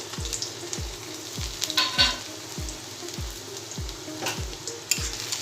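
Bright sizzle of chopped garlic frying in oil, with a regular low thump repeating about every two-thirds of a second, like a spatula tapping the pan.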